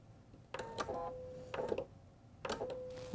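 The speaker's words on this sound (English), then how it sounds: "I'm going to sew one right after the other with a 1/4 inch seam allowance." A sewing machine stitches quilt blocks in three short runs, each a close whirring buzz of the needle lasting about half a second with brief pauses between, in a quiet room with no voices.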